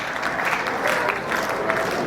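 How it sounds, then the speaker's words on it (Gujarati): An audience at a family community gathering claps steadily and densely throughout, a sustained wash of applause that stays even in loudness. "જોરદાર તાળીઓ વચ્ચે આપણે જીયાનને."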